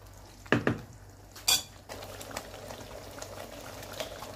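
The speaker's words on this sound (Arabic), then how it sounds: "المكونات الكل تاخذ غلوة مع بعضها" Bolognese sauce ingredients boiling together in a cooking pot, a soft steady bubbling simmer after a couple of sharp clinks of utensils against the pot near the start, faint and close with no talking.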